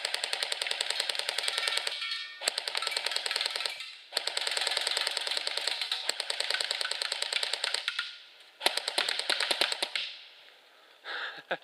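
A CYMA AK47S full-metal airsoft rifle fires fully automatic in several long rattling bursts, rapid and mechanical with short pauses between strings, close and loud with no talking.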